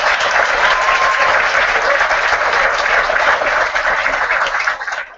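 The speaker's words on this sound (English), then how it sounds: "Let's give them another big round of applause for this team." Audience at a high school graduation ceremony breaking into sustained, dense applause that stays loud and steady for several seconds before tapering off at the end.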